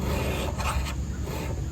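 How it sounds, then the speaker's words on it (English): The spine of a Mora Companion Stainless knife drags across a sharpening stone, making a close, coarse rasping stroke, rough and continuous for nearly two seconds with no voice. "To sharpen that spine up, I drag back 10 times and then I feel for a burr."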